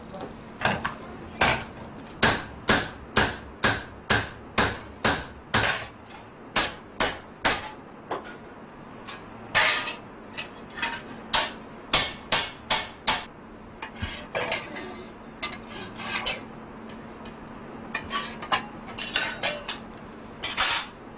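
Naxi craftsmen in the Old Town of Lijiang hammer copper into everyday items. Loud, ringing metallic blows come in quick rhythmic runs, then give way to sparser, irregular strikes.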